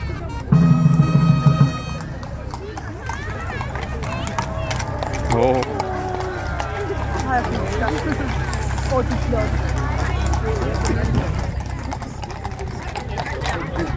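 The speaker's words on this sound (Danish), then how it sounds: "Nu kommer hesten." Horses clip-clop along a city street at Nytorv during a royal procession for King Frederik X, hoofbeats steady and fairly near beneath constant crowd murmur and voices.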